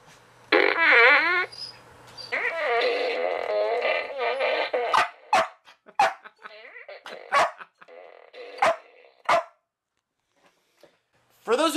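A fart machine at a Halloween trick-or-treat event sounds off in a series of short sputtering blasts and squeaky, drawn-out tones, fairly close and loud, mixed with bursts of voices.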